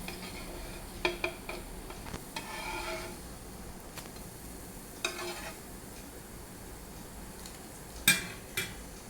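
A ghee roast dosa cooks on a pan with a faint, steady sizzle, broken by a few soft clicks and scrapes of a utensil against the pan.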